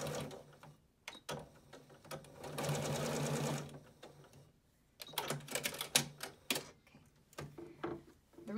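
A sewing machine backstitches the back edge of a fabric surgical cap, with a quick rapid stitching burst in the middle and shorter rattling runs and clicks around it, heard close and fairly quiet.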